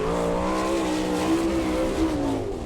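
Sprint race car lapping the Attica dirt oval during qualifying, engine roaring loud and steady with a high sustained tone that rises and falls slightly as it works through the turns.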